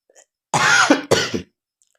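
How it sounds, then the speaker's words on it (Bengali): A person gives a short dry, tickly cough in two quick bursts, close and fairly loud, then silence. "খুব খুসখুসে কাশি হয়েছে"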